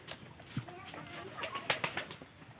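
Pigeons kept for breeding coo softly nearby amid faint rustling and wing movement, with low murmuring voices mixed in.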